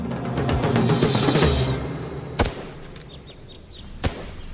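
A historical matchlock firearm, its wick lit, fires: two sharp, loud bangs ring out at about two-second spacing after a stretch of busy background noise.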